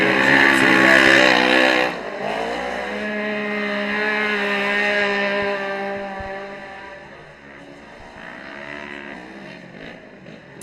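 Side-by-side off-road racing cars drive on a shortened dirt track in the 2024 Texas Outlaw Series, with loud, high engine drone that swells and fades as vehicles pass at varying distances.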